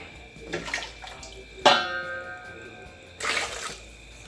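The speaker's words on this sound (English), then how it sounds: "you're gonna add some of the juice from the pot into the blender so that it can blend up nice and smooth" Cooking juice from a pot of birria poured into a blender, a few short splashing, liquid pours with a sharp clink, close and clear in a quiet kitchen.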